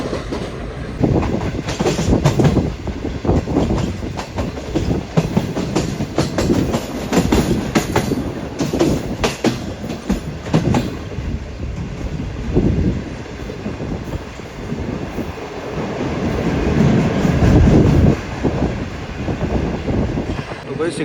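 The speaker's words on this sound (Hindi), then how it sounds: "इस तरह ट्रेन को लेकर जा रहा है कराची की तरफ" A Green Line passenger train runs toward Karachi, with a steady rumble and rhythmic clickety-clack of wheels over rails heard from on board for the whole stretch. Faint voices are heard beneath it.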